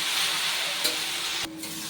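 Jute leaves being stirred into lentils in a pan, a close steady sizzle with a couple of sharp scraping knocks from the spoon and a sudden drop in hiss near the end, with no voices.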